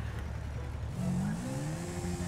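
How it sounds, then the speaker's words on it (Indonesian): A drag motorbike from Thailand in GTA 5 revs up, a low idle climbing into a rising, buzzing engine whine over a couple of seconds. It plays fairly quietly on its own. "Tapi suaranya ini kayak motor batik guys, bukan bukan suara motor dua tak."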